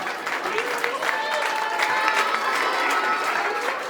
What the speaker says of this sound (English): Let's give a good big applause for all of the little stars